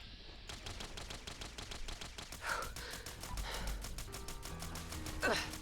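Rapid, evenly spaced shots from a modded weapon in Fallout 4 fire in a steady stream, with a couple of louder impacts and faint game effects mixed in.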